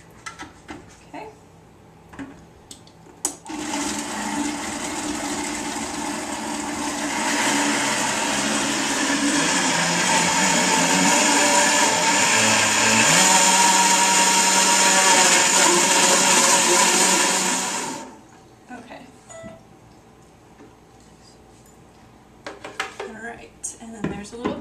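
A kitchen blender blending strawberries with a little water for a raw food dessert, a steady loud motor whir that starts abruptly, rises in pitch and intensity midway, then cuts off, with faint handling noises before and after.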